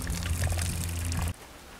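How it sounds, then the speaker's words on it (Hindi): Water gushes from the tank drain valve of a Mitra Aerotec Turbo 600 agricultural sprayer, a close, steady pouring splash that cuts off abruptly after about a second, leaving quiet. "इसमें हमने टैंक में से पानी निकालने के लिए ये ड्रेन वॉल दिया है।"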